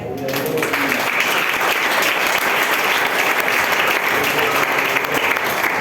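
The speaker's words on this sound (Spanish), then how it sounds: "¿Cuánto dan un aplauso al Señor?" Congregation applauding in a church service, a sudden burst of dense, sustained clapping that stays loud and even throughout after a brief voice at the start.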